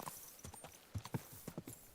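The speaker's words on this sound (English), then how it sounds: "Sorry, man, I'm not in control. It's my own horse." Horse hooves clip-clop in an uneven trot in a video game, the hoofbeats close and crisp but fairly quiet.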